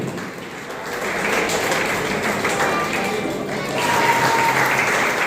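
An audience at a public event in Bakhri, Begusarai, welcoming Professor Ratan Lal, breaks into loud, sustained applause: steady, dense clapping that swells slightly and carries on without pause.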